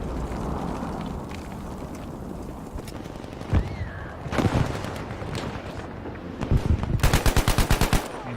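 Automatic gunfire from a new free gun in Battlefield V, scattered shots and distant battle noise at first, then a loud rapid burst of evenly spaced rounds near the end over a rumbling battlefield background.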